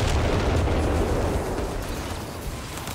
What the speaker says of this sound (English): Looks like some artillery called in by the Dingo.